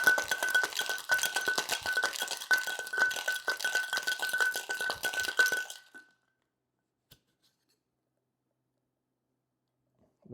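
Ice rattles hard inside a cocktail shaker tin, rapid rhythmic clinking and sloshing for about six seconds, then it stops abruptly, leaving near silence apart from one faint click.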